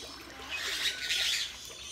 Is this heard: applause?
no